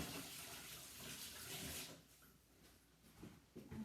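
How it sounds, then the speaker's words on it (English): Tap water running while washing hands in a kitchen sink, a soft steady splashing stream that fades after a couple of seconds, followed by faint handling knocks. "I'm going to wash my hands again."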